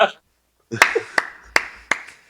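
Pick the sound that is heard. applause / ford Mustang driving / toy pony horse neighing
applause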